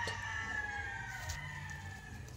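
Chickens and roosters on a farm beside a fish pond, a drawn-out crow stretching across the whole moment at moderate distance, softer and steadier, with faint clucking underneath and no voices.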